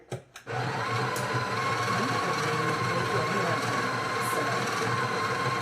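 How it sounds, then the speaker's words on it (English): A coffee grinder grinds espresso beans, a loud, steady whirring roar that starts abruptly after a couple of brief clicks and keeps running evenly. "So we're gonna grind the beans. It's gonna get kind of loud, so you may not be able to hear me."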